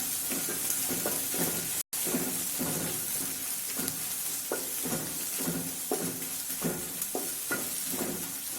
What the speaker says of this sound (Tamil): நான் ஒரு வெங்காயம், பெரிய வெங்காயம் நீல வாக்கில் வெட்டி வச்சுருக்கேன், அதையும் போட்டுக்கிறேன்.